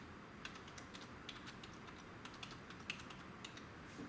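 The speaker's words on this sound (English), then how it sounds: "I'm going to type pulse settings in." Typing on a computer keyboard, quick soft key clicks in an irregular patter, close but faint over a quiet room hiss.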